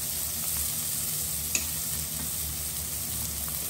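Onions caramelizing in a frying pan with chili just added, a dense continuous sizzle with soft stirring scrapes and one brief sharp tick, no voices.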